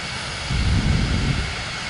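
Aircraft engine being throttled back in Microsoft Flight Simulator 2024, a steady broad drone that swells briefly in the low end and then settles, heard alone without voices.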